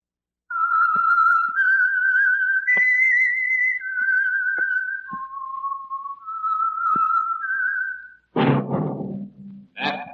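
A lone melodic whistle, a slow wandering tune of sustained notes, the signal for the radio program The Whistler, followed by a short burst of louder noise at the end.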